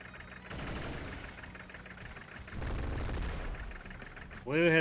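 Artillery fire in Advance Wars: Days of Ruin, a burst of rumbling game gunfire and booming shots that swells twice over a steady background, ending in a rising whooshing effect.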